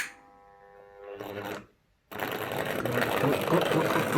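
An old Hornby R758 Class 35 model diesel locomotive motor whirs with a steady tone, stops briefly after a click, then starts again with a louder, rougher mechanical buzz in need of servicing.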